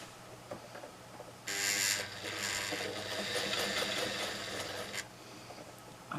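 A sewing machine stitching a canning mat runs steadily for a few seconds with a fast mechanical whir, close and clear, with quieter handling before and after and no talking.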